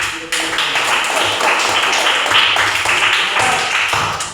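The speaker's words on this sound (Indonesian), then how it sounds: "mari kita beri tepuk tangan untuk" Children in a classroom clap their hands together in a dense, steady patter of many overlapping claps, loud and continuous for several seconds.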